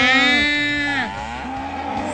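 A single cow gives one long, loud, close moo whose pitch falls and then wavers to the end, heard alone.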